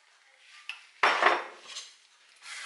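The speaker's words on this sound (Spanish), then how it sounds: "la vamos a mover para ir mezclando con la mantequilla" A utensil works flour into melted butter in a saucepan, giving a sharp metallic clank followed by short scraping and clinking strokes, close and alone.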